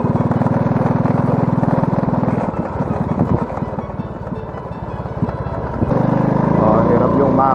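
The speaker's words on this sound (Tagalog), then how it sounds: "Oh, hirap yung makina." Close up, a semi-automatic motorcycle engine strains with a loud buzzing drone that drops and roughens through the middle, as if between gears, then swells back to a steady pull.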